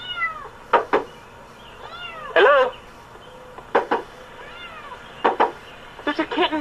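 Small kitten trapped inside a car's engine compartment mewing in repeated short, high cries, loud and close, several calls spread across the clip with brief pauses between, over a faint low background hum.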